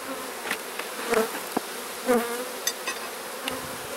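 Honey bees buzz steadily around an opened hive during an inspection between two brood boxes, a close continuous drone with occasional soft knocks and clicks from handling the wooden equipment.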